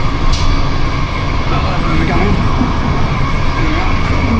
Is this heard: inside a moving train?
yes